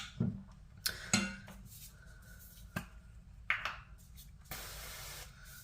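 A spoon scrapes and taps a granola mixture across a greased skillet, a few sharp clinks and scrapes spaced irregularly, close up, with quiet pauses between.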